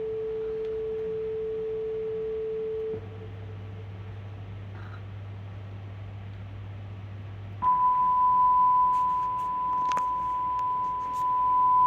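Steady test tones through a client's 1965 Ampeg vacuum tube guitar amplifier: a low sustained pitch, then a low hum, then a higher steady tone, each held for seconds, with faint background noise and small clicks.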